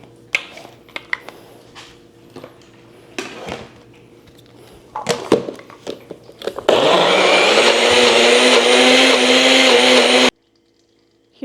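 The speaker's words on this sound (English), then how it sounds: "And then this goes in the blender." Kitchen clatter and taps give way to a loud blender whirring steadily for several seconds, pureeing ingredients drizzled with oil, before cutting off abruptly.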